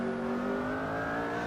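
A McLaren P1 race car in Assetto Corsa at Silverstone holds a steady, loud engine drone with rising whine, a continuous sustained rev over the whole short stretch with no voices.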